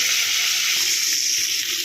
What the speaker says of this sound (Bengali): তো মাছগুলো ভাজা হতে থাকে